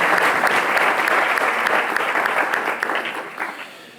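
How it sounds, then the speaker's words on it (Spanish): A debate audience bursts into sustained applause for the speakers, dense clapping that holds steady and then gradually thins out and fades. "Démosle un aplauso a nuestros oradores"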